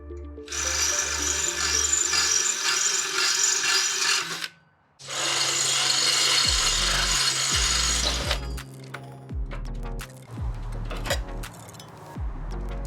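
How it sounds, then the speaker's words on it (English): Loud, sustained grinding of a drill cutting through exhaust tip rivets on an E92 M3 in two long bursts, followed by clanks, taps and scraping of loosened parts. "just drilling out those rivets"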